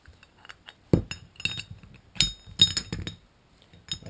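A metal shift fork slides onto a CAD disconnect housing during a front axle modification, giving a few sharp metallic clinks and scrapes at close range with quiet pauses between them.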